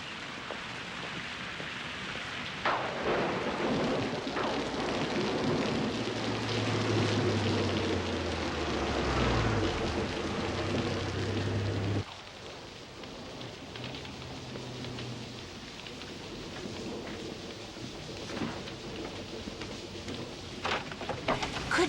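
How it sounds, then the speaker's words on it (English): Rain falls steadily outside, a continuous hiss of drops that drops slightly in level partway through, with a soft low rumble beneath and no talking. "come in out of that rain"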